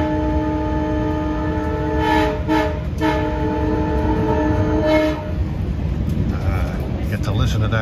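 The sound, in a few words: LIRR train horn blowing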